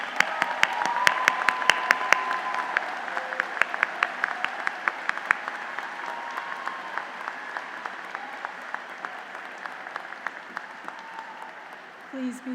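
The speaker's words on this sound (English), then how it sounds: "A round of applause for these graduates, please." Applause from a large audience honoring graduates at a college commencement ceremony, steady dense clapping with sharp individual claps on top, sustained for several seconds and fading slightly toward the end.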